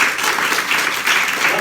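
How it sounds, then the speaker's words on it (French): Audience applause at a French stand-up comedy show, a dense, steady wash of clapping from a full room, loud and continuous without any talk. "on peut applaudir déjà"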